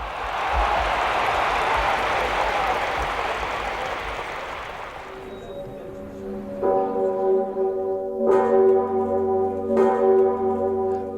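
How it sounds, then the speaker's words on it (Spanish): A giant 9-ton cathedral bell rings in Kraków during a spontaneous celebration. A broad crowd roar and applause fade out, then deep resonant bell strikes ring out with long, humming decays, several heavy tolls sounding clearly and loudly. "La gigantesca campana de 9 toneladas de la Catedral de Babel repica."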